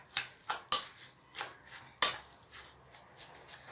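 A spoon stirs a dolma filling of tomato and minced meat in a metal pot, producing a series of close scraping clinks and knocks in an uneven rhythm, some sharper hits standing out.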